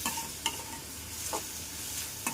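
Prawns sizzle quietly in a pan with masala, and a few sharp scraping stirs break through the steady frying hiss, close and alone.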